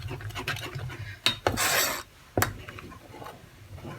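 A spoon scrapes and rasps against a pot while sugar and semolina are worked into milk for semolina kheer, giving irregular close-up scraping strokes and a few sharp clinks of metal.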